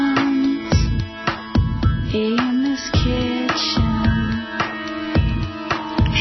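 A pop song plays over a radio in a kitchen, with steady drum hits, sustained melodic tones and a sung vocal line, loud and continuous, with a brief spoken phrase over it.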